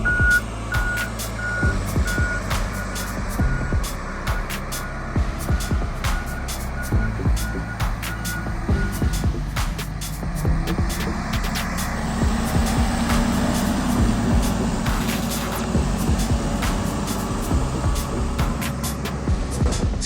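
An eight-wheeled forestry logging machine works steadily with a continuous engine drone, loud and close, while repeated reversing beeps and clanking knocks sound over it.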